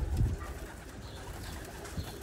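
A breeder male pigeon of the Oman Hatem Teddy type gives soft, low cooing near the start, then fainter murmurs over steady background noise.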